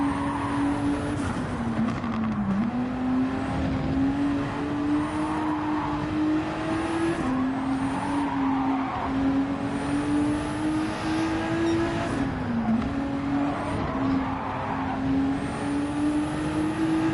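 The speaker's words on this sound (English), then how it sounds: "Told you it's my GTR." A Nissan GT-R race car engine in Gran Turismo 7, a steady high droning note that holds through the lap with brief dips at gear changes, loud and close with no talk.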